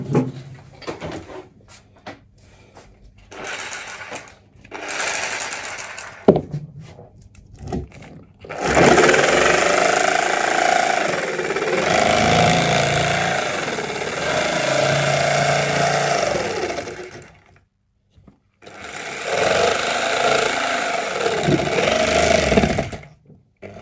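Jigsaw trimming the plastic edge of a cranial remolding helmet orthosis, a loud, steady buzzing cut that runs in two long bursts after some handling knocks and clatter.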